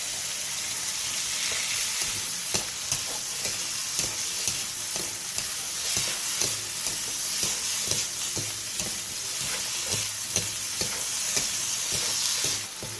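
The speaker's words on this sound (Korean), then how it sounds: "팬에 기름을 두른 뒤 감자, 다진 마늘 3분의 2스푼, 소금 4분의 1스푼을 넣고 센 불에서 2분 정도 볶아주세요" Potatoes, minced garlic and salt stir-fry over high heat in an oiled pan, a constant close sizzle broken by frequent scraping and clacking of a spatula stirring through the pieces.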